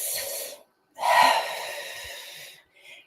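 A person draws a deep, audible breath through the nose and then pushes it out in a long, steady exhale during a guided breathing exercise, close to the microphone, followed by a short softer breath.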